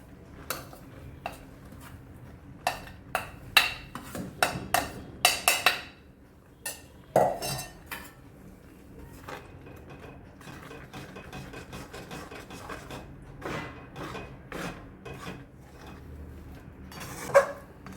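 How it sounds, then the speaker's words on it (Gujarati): Mandavi Pak mixture being stirred into hot sugar syrup, a spoon clinking and scraping against a metal pot in irregular bursts, loud and close, with a steady low background hum and no talking. "સારી રીતે મિક્સ કરી લેવાનું"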